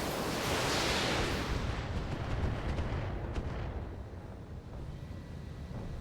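Heavy gunfire booms in a dense, continuous barrage, loud and close, with overlapping blasts and rumbling that fade slightly toward the end; no voices.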